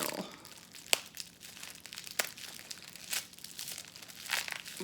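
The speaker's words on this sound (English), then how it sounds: "I hopefully won't break it as I'm opening it. That's a danger when things are taped so securely." Crinkling and tearing of packing tape and wrapping as a securely taped parcel is opened, with brief rustles and sharp rips spread across the moment, fairly quiet and close.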